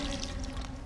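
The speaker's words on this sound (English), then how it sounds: "Water. Aguamente." Water conjured by the Aguamente spell in a Harry Potter film pours out briefly, a faint, short gush and splash lasting under a second.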